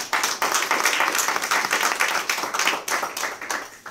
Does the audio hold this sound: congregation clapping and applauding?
yes